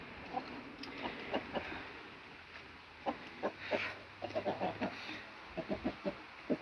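Chickens clucking nearby in short, irregular bursts, with several quick clucks clustering toward the end over a quiet outdoor background.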